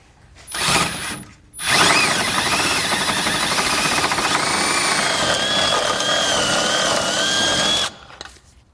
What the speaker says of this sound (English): we can take our drill bit and drill it completely through to the other side